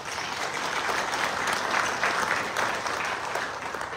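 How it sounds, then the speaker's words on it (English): Sustained applause from an audience at the opening session of a Knights of Columbus state meeting, a dense, steady wash of many hands clapping at even loudness for several seconds with no voices above it. "I think that's worth applauding."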